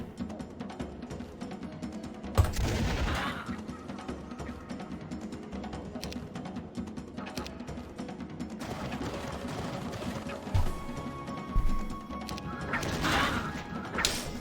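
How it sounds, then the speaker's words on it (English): A powerful explosion in the strategy game Heroes of Might and Magic 3, a sudden crashing burst amid game sounds and music, followed by further clattering impacts, no talking. "What a powerful explosion."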